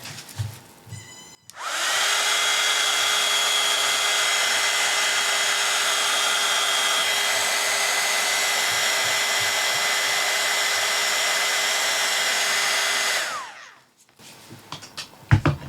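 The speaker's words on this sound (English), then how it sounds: "I'm just going to get the heat gun on this black paint so we can get that second coat on it" A heat gun blows hot air over freshly applied black paint on a Halloween craft, switching on with a sudden steady roar that holds for about eleven seconds before cutting off, followed by faint handling sounds.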